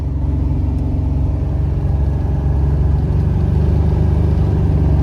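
An LS-swapped Buick Regal with upgraded suspension and disc brakes cruises on a test drive, its V8 holding a steady, deep rumbling drone close by, loud and uninterrupted, with no talking.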